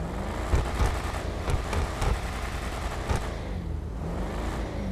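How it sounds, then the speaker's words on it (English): Supercharged car engine in GTA 5 revving, a steady loud drone with a few sharp bursts of throttle early on before settling into a smoother whine. "one of my favorite things about this car is the supercharged whine"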